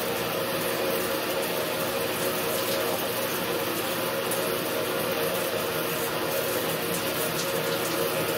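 Steady, loud stream of running water pouring while hair is being washed, a constant hiss throughout with no voices.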